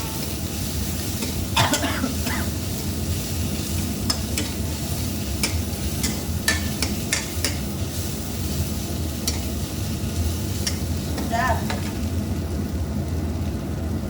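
Cloves toast in a pan with a steady low sizzle, while a few scrapes and clatters from stirring stand out at scattered moments.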